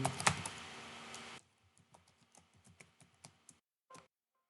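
An account name is typed on a computer keyboard for point-of-sale software. A short burst of steady noise gives way to scattered, fairly faint key clicks, followed by a pause and a last click.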